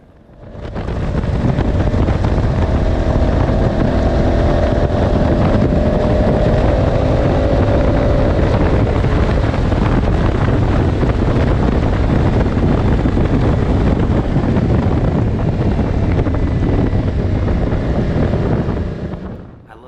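A motorcycle cruising a highway between Albuquerque and Taos, its engine drone buried under a loud, steady roar of wind buffeting the microphone for the whole ride, with no voices.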